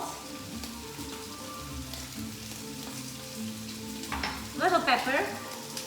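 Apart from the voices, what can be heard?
lamb frying in olive oil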